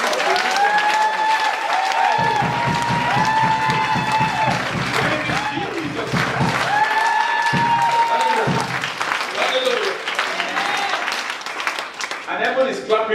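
A church congregation claps during a Sunday service, dense rhythmic clapping running throughout while a voice sings or speaks over it with sustained tones.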